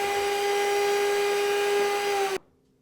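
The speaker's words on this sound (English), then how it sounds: "Put the garlic, lemon juice and tahini in a blender and blend until smooth." Blender whirring through garlic, lemon juice and tahini for hummus, a loud steady motor drone with a high tonal whine that cuts off abruptly near the end.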